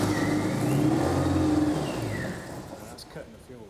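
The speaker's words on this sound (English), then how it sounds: "let me get my foot on the accelerator" A two-seater sports car engine revving as the accelerator is pressed, a steady mid-pitched drone that swells and then fades, with people talking over it.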